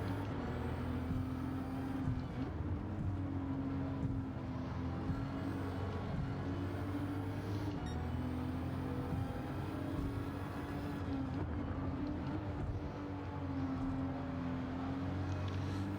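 Toyota GR Supra RZ engine in Gran Turismo 7 on the Tokyo Expressway, a steady loud drone with a strong low hum running unbroken throughout, no talk over it.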